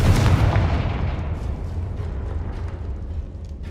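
A Confringo fire-blast spell goes off in Hogwarts Legacy on PS5, a loud booming burst at the start that fades into a rumbling, decaying roar with no voices.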